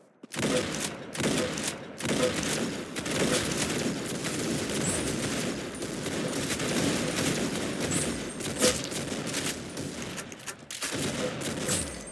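Rapid, dense gunfire from a shooting session, with overlapping shots and thuds forming a near-continuous loud barrage throughout, no talking.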